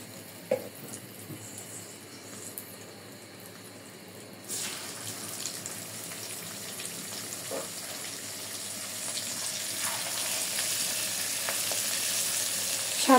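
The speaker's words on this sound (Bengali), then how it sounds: "আমার চিংড়ি মাছগুলো ভাজা হয়ে গেছে" Large river prawns, about 400 grams together and seasoned with turmeric and a little salt, fry in hot oil. The sizzle is quiet at first, then jumps to a loud, crackling hiss that keeps building, with a few sharp spatters.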